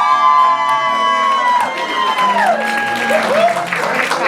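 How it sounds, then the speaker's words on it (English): Wedding guests applaud and cheer for a live band at a reception. Dense, sustained applause and crowd noise swell as the band's music trails off underneath. "Let's give them a big round of applause."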